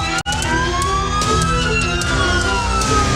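A Palestinian ambulance's siren wails on a road south of Nablus in the West Bank, loud and continuous, its rising and falling tones sweeping through the whole clip with no speech.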